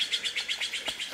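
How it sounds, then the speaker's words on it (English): A magpie calls in an aspen grove west of Bear Lake, Idaho, a close, loud series of about eight rapid, evenly spaced harsh chattering notes heard alone. "That magpie scared me."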